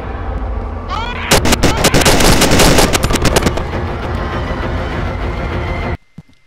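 A powerful gun fires in Cry of Fear: a rapid burst of loud, sharp shots cracking in quick succession after a brief mechanical whine, then a sustained ringing roar that cuts off abruptly into near silence.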